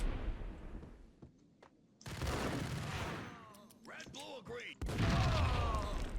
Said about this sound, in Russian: чтобы взорвалась бомба.